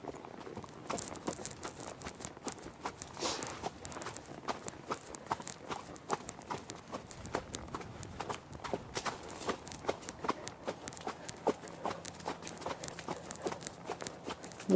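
A horse walks at a steady pace beside other horses at a ranch, its hooves clip-clopping in an irregular, moderately close rhythm against a quiet background.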